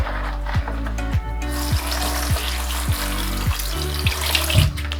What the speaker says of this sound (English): Just basically want to do it until you don't get any, like now, you don't get any foundation infused water.